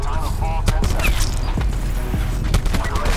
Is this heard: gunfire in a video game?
yes